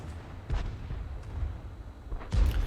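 Artillery shell fire in a tabletop-style war video game: two dull booming thuds a couple of seconds apart over a low rumbling background, no speech.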